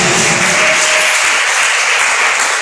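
Church congregation clapping loudly and continuously, a dense wash of applause that holds steady throughout.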